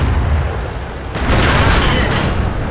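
Tank cannon fire in a tank video game featuring the KV-4, heard as a loud, booming blast that rises around the one-second mark and rolls on into a sustained rumble over dense background noise.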